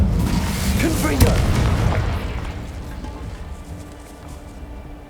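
Confringo blasting spell explosion in the video game Hogwarts Legacy, a loud close boom with crackling debris that fades out over several seconds, while a person talks over it.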